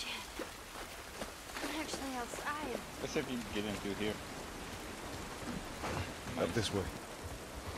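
Steady rain pours down in an outdoor area of the video game The Last of Us Part 1, a continuous hiss beneath footsteps and someone talking briefly over it.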